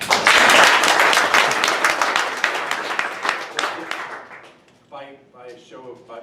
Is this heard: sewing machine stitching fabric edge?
no